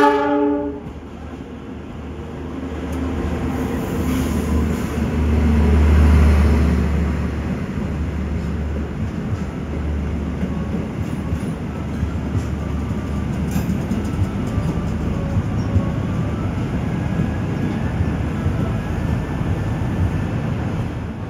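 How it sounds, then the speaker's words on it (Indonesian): The Argo Lawu passenger train passes through Cirebon station in a loud, continuous roar of rolling cars and rail clatter that swells near the middle, with a horn note at the start. "Bertemu kereta kesayangan, kereta favorit, ini adalah Argo Lawu."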